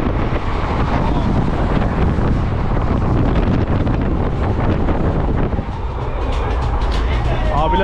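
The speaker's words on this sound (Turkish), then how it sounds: "tren." A third-class train rolls through Rajasthan, India, with a loud, constant rumble and heavy wind buffeting through open windows, and voices of passengers mixed into the din.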